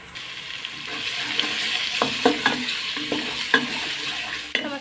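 Spices with turmeric, coriander powder and salt fry in a pan, giving a soft sizzle broken by repeated scraping stirs of a spoon against the pan.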